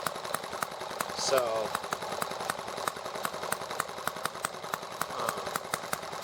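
A small engine idles steadily during low-speed carburetor needle adjustment. Its rapid, even ticking runs throughout beneath someone talking close up.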